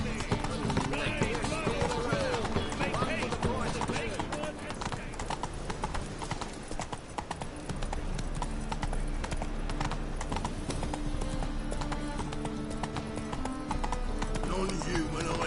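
A horse's hooves clip-clop at a steady gallop in The Witcher III, with in-game music and game voices talking over the rhythmic hoofbeats throughout.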